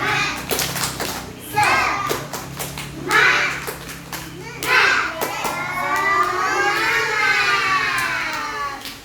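Children in a classroom clap and chant together in a group routine, with a rhythmic burst of hand claps and young voices rising in bursts, moderately loud and close, ending in a sustained shouted chorus.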